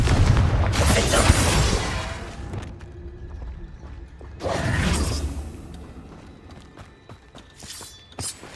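The Confringo explosive spell cast in Hogwarts Legacy sets off a loud rumbling blast that decays over a couple of seconds. A second, lighter burst comes a few seconds later, and faint clatter follows. No one speaks.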